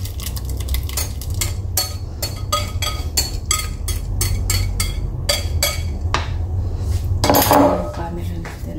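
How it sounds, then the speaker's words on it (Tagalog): A spoon stirring banana cake batter in a bowl after the liquid is poured in, giving a steady run of rhythmic clinks and scrapes against the bowl, close and clear, with a brief louder scrape near the end. "Ihalo na natin yung liquid."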